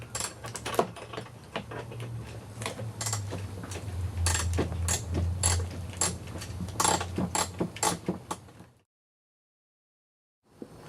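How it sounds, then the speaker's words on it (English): Bolts are tightened down while a bumper cover is refitted during repair on an Audi 1.8T AEB/ATW engine car, with a tool ratcheting and clicking in quick repeated bursts up close over a low hum, then silence. "Go ahead and tighten it down."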